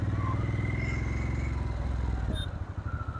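A Harley-Davidson Sportster S with a 1250 Revolution Max engine rumbles loudly in sport mode, its deep pulsing exhaust throb steady while riding, then easing off toward the end.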